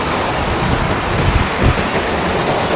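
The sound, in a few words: stream flowing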